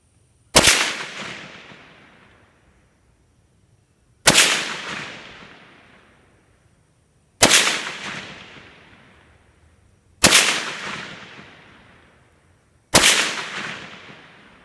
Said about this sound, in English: let's take a little 5-shot group